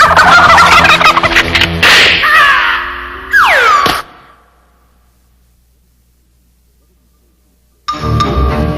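Turkey gobbles ring out loudly in a radio station promotion, a burst of rapid warbling calls with a descending sweep, then a few seconds of silence before more sound returns near the end.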